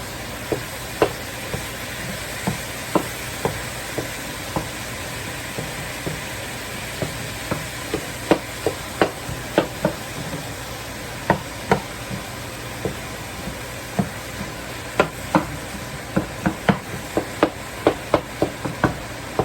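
Ground meat browning in a pan for taco salad, with a low steady sizzle under frequent sharp spatula taps and scrapes against the pan in irregular bursts, close by, with no talking.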